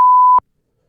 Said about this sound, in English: A beeping sound came out of my mouth when I tried to say...